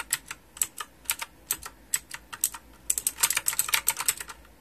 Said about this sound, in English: there's a music to when you're writing something on a keyboard